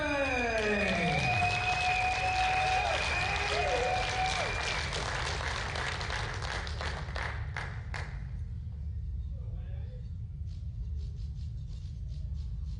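Audience applause for a powerlifting gold medal winner at a national open meet, fairly loud and steady for about eight seconds under a rumbling hall tone, with a whistle-like tone sweeping through early, then thinning to scattered claps.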